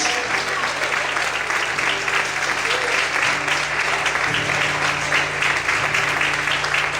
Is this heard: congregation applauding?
yes